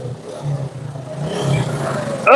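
A motorcycle engine idles with a low steady rumble, then revs up sharply at the end, close and fairly loud.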